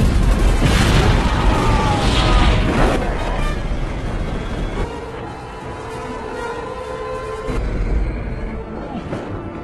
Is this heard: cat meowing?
no